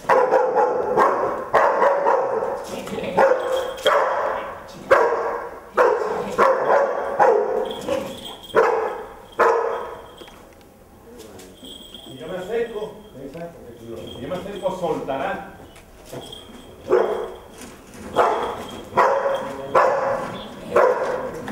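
Dogs barking during a dog trainer course practice, repeated loud, sharp barks in bursts with a quieter stretch midway, under someone talking in Spanish.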